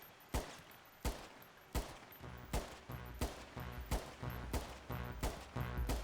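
Service carbine gunfire in GTA Online, a steady string of about nine sharp, loud shots spaced roughly two-thirds of a second apart, each with a short echoing tail and no talking.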